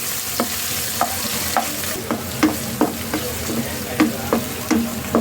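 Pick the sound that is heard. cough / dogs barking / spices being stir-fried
spices being stir-fried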